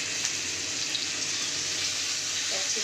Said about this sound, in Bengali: ক্যাপসিকাম তেলে দিলেই তাড়াতাড়ি মজে যায়